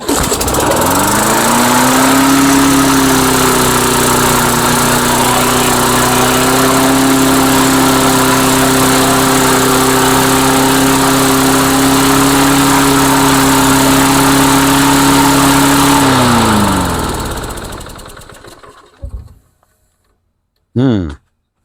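A Mastercraft lawnmower runs after an engine swap, its small engine loud and close, racing at high revs with a sticking governor for about sixteen seconds before winding down and cutting out, then a few faint knocks.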